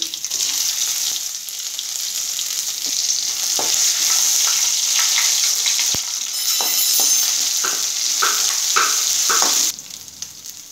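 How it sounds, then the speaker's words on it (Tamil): Mustard seeds, dried red chilli, curry leaves, cumin, pepper and crushed garlic fry in hot oil for a tomato rasam. The sizzle is loud and close, with crackles and stirring scrapes running throughout, and it drops off sharply near the end. "கூட கருவேப்பிலை, சீரகம், மிளகு, பூண்டு நசுக்கி வச்சிருக்கேன், அதை போட்டுக்கிறேன் ஆயில்லையே"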